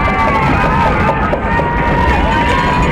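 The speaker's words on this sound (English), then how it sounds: "Crowd getting rowdy here, both sides." A rowdy crowd at a girls soccer game, a loud steady roar of cheering, yelling and whooping voices from both sides, continuous and close throughout.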